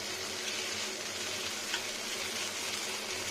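Katla fish with vegetables, including brinjal, potato and pui shak, fries with cumin powder in a pan, making a dense, even hiss that stays steady and close, with no voices.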